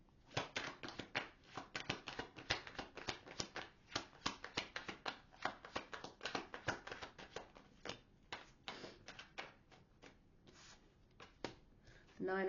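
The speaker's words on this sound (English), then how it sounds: "you saw me shuffle the friggin' deck" A deck of tarot cards is shuffled close by. It gives a rapid, crisp run of papery riffles and flicks that continues steadily, then thins out toward the end.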